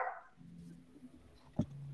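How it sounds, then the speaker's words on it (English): A dog gives one short, sharp bark in a quiet room, near and brief, following faint indistinct background noise during an online discussion. "sorry about the dog"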